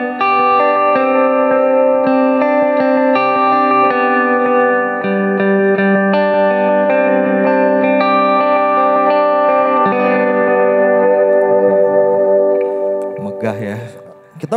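An electric guitar plays sustained chords through a Valeton effects unit with delay and reverb, loud and washy with long echoing tails, ending in a brief noisy burst.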